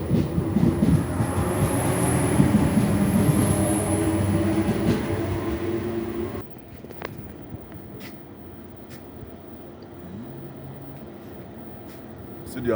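An RER line D train rumbles loudly through a Paris station, then the noise drops abruptly midway to a quieter hum of the platform, with faint clicks and squeals.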